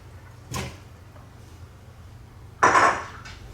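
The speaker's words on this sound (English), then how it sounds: "And now I'm going to add some pre-diced potatoes." Pre-diced potatoes drop into a pot of fish soup in two separate bursts, a softer splash followed by a louder clattering splash near the end, over a quiet background.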